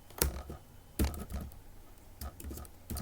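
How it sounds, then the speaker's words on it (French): Keystrokes on a computer keyboard while entering an Excel function: short bursts of clicky taps in separate clusters, close and fairly quiet, with no talking. "Je peux juste la taper grande valeur."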